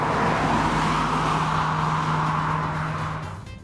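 Steady, loud road and engine drone from inside a Volkswagen Jetta GLI with a DSG dual-clutch transmission driving along, easing off slightly at the end.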